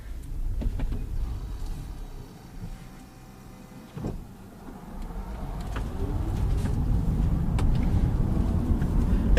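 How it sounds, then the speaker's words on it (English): A Prius plug-in hybrid pulls away in electric EV mode, giving a low, steady road rumble with quiet tire and drivetrain noise that slowly builds in loudness, broken by a brief thump near the middle. "I'm pretty much going to drive down the road in electric vehicle mode"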